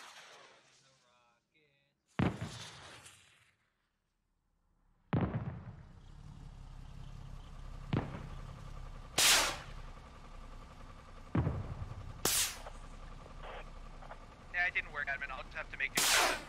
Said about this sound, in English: The first rocket is away. Here comes another one.